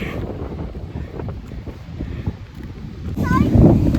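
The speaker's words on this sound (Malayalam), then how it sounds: "നല്ല കാറ്റുമാണ്." Gusty wind buffets the microphone with a steady low rumble, growing stronger toward the end, at dusk at a natural volcanic rock bridge on the coast of Mauritius.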